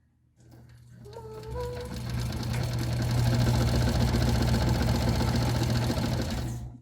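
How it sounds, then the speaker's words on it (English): A sewing machine stitching the interior gusset of a messenger bag at a half-inch seam, starting up and running in a steady rapid whirring hum close by, stopping at the end. "I'm just going to go ahead and sew that at a 1/2 inch seam allowance real quick"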